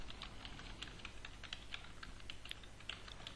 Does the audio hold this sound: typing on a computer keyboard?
yes